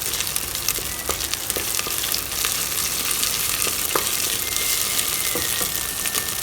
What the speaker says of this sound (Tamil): இதில் 1 ஸ்பூன் இஞ்சி பூண்டு பேஸ்ட் போட்டு இஞ்சி பூண்டு பேஸ்ட்டோட பச்சை வாசனை போகிற அளவுக்கு நல்லா கிண்டி விட்டுறலாம்